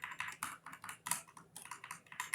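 Quick bursts of typing on a computer keyboard during spreadsheet work, the key clicks coming close and steady in short irregular clusters with small pauses between them.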